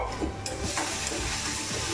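Coriander seeds and a dried red chili dry-roast in a pan while being stirred, giving a soft, steady crackle with light scraping strokes, close by and with no talk.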